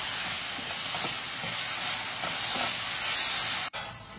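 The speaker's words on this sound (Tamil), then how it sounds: "இப்ப இந்த தக்காளி கொஞ்சம் வதங்கணும்." Chopped tomatoes sauté in a pan for peanut chutney, giving a steady, close sizzling hiss that runs unbroken until a brief dropout near the end.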